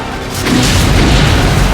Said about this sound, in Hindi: गजा में धमाकों का ये वीडियो इजराइल ने बनाया है।